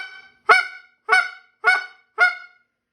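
A goose flute blown in four short, evenly spaced bursts, each a clear, nasal honking cluck close up, with silence between calls.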